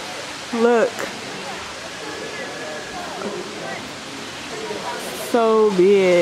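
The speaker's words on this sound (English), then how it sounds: "it's a waterfall, little waterfall right there" A small waterfall in a cave gives a steady broadband rush of falling water, constant throughout, with people talking briefly over it near the start and end.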